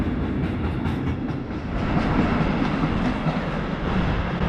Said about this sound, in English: freight trains are going through, various passenger train movements, local S-Bahn services